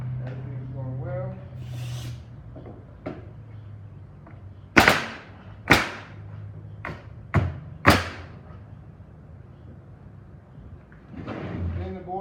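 Pneumatic nail gun driving nails into wooden pallet boards during pallet remanufacturing, several sharp close thuds in an uneven burst amid workshop hum, with a voice speaking at the start and end.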